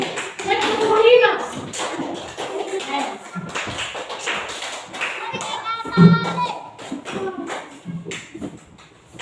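Rhythmic hand claps in a counting exercise during a micro-counseling session, sharp taps arriving in changing groups amid steady speech from the people present.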